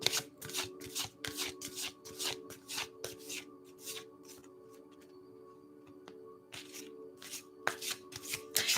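Tarot cards shuffled by hand in quick riffling bursts, with a short pause in the middle before the shuffling resumes, close and clear.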